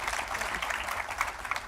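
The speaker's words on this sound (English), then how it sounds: "Do you have any applause?" Applause from a conference audience at a wildlife trade event in London, a steady wash of many hands clapping that stays even and moderately loud throughout, with no voices over it.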